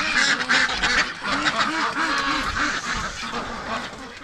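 Muscovy ducks, drakes among them, give a steady run of low, breathy hissing calls close by, overlapping one another over a busy yard background with no talking.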